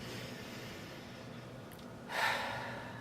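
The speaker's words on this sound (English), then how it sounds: "now go ahead and take another nice deep breath in" A single deep inhaled breath during a guided relaxation exercise, a soft airy rush rising near the end after quiet room tone, close and fairly faint.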